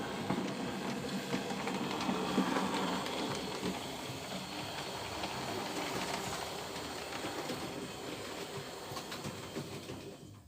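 Heritage railway steam locomotive number 795 standing ready to depart on a running day at Droxford, a steady rumbling hiss and mechanical clatter holding at an even level throughout, fairly close, with no voices.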